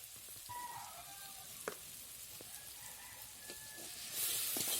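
Spices with turmeric and salt fry in oil in a pan, a soft, even sizzle with scattered clinks of stirring and a louder rush of sizzle at the very end.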